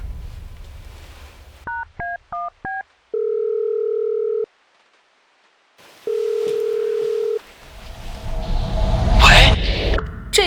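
A quick run of telephone keypad dialing tones, then a steady ringing tone in two long bursts with a silent gap between, as in a phone call in a Chinese short drama; a noisy rush and muffled voice follow.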